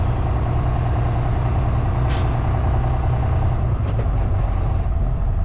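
A big truck rumbles close by at an intermodal rail yard, a loud steady low drone with two short hissing bursts of air on top and no one talking.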